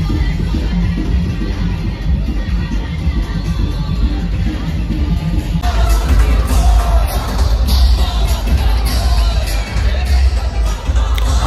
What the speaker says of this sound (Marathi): इथं खरंच खूप गर्दी आहे आणि चालता येत नाही इतकी गर्दी आहे.